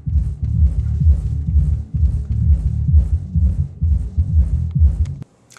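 Deep, muffled bass notes through a subwoofer with a 90 Hz low-pass filter, driven by Crown XTi amplifiers, thump in a steady groove with the treble stripped away, playing loudly until they stop abruptly near the end.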